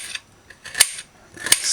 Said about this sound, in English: Just dice this.